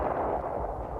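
Israeli artillery shelling Syrian strongpoints during the 1967 Six-Day War, heard as a continuous dense rumble of distant booms and blasts blending into one another, with no voices.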